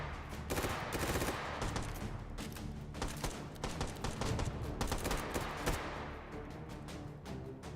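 Rapid bursts of gunfire from the H3VR virtual reality shooter, a dense run of close sharp shots and automatic volleys that thins toward the end, with no talk over it.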